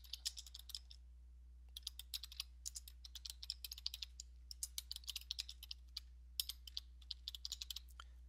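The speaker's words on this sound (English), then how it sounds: "I'm going to click on the screen and type some text in" Keys on a computer keyboard are tapped to enter text in sign-design software, giving quiet, irregular clicking bursts with brief pauses between runs and no voices.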